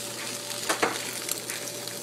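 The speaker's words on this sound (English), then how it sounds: "Wonderful eggs are just cooking up" Eggs fry in a pan with a soft, continuous sizzle and crackle, while a couple of brief scrapes or taps from a spatula break through near the middle.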